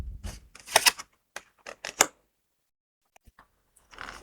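Oracle cards shuffled and drawn during a tarot reading, heard as a run of crisp papery slaps and riffles in quick bursts, then a few faint taps and a brief final shuffle, close and alone with no talking.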